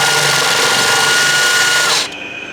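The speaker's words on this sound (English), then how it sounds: "take the propolis and I'm gonna drill it" A power drill whirs loudly and steadily for about two seconds while drilling a hole in propolis, then cuts off, leaving a faint high ring and quiet background.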